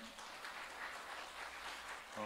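Applause rises from the audience at a startup innovation forum in Jeju after the second presentation, a soft, fairly distant, steady patter of many hands lasting about two seconds before a voice cuts in at the end.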